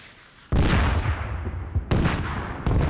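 Rocket pods fire in the military game Squad Ops, in loud, dense bursts of booming launches. A roaring barrage starts abruptly and surges again twice, with no voices.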